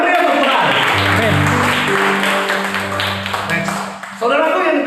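A church congregation claps loudly and steadily for God during a Sunday service, the applause sustained over music and voices before easing near the end.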